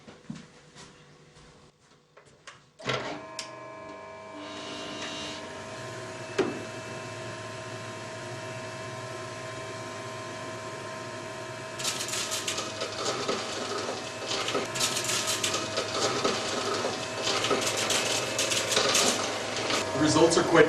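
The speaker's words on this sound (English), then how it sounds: "we're going to juice some red currant now" A Magimix Le Duo XL or Catler juicer, set to soft fruits, presses 450 grams of red currants. A motor hum starts after a short quiet opening and runs on steadily, growing louder and rougher toward the end.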